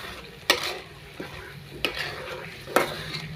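Homemade masala paste for pav bhaji is sautéed in a pan, with three or four sharp metallic scrapes of a spatula over a steady sizzle. It sounds close and there is no voice.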